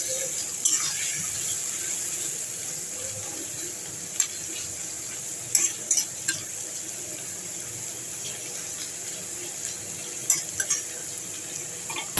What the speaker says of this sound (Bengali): এবার এই চিংড়ি মাছ আর পেঁয়াজটাকে একটু ভাজা ভাজা করে নেব।